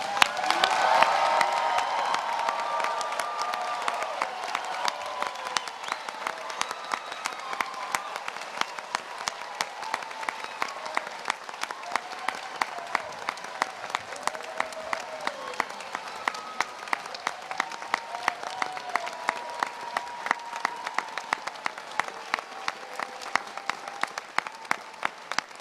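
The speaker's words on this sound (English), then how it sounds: "stand up as a body so we can give you a big roar of applause." A graduate commencement audience roars with applause as the graduates stand, with a loud, dense burst of clapping and cheering up front that settles into steady, rhythmic, sustained clapping with scattered whoops.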